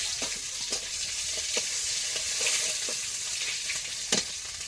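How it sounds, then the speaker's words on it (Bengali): Dried red chili, five-spice seeds and chopped onion fry in oil for dal, a close, steady sizzle with intermittent crackles and stirring scrapes, no voices. "নিয়ে তেল দিয়ে একটু শুকনো লঙ্কা, পাঁচ ফোড়ন, পেঁয়াজ কুচি দেবো"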